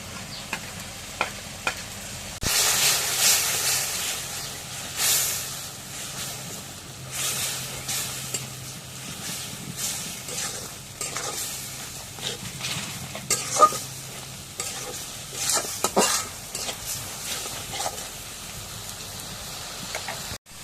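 Ginger, garlic and cumin pastes with garam masala fry in a pan, producing a continuous crackling sizzle broken by irregular scrapes and knocks of a stirring utensil, close and moderately loud.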